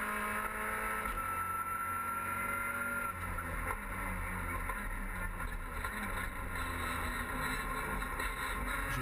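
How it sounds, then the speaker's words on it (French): A steady engine drone fills the scene, heard onboard a Peugeot RCZ race car at the Val de Vienne circuit, holding high revs with slight rises and dips, continuous and loud. "Et là on se retrouve à bord de la voiture de Julien Brichet"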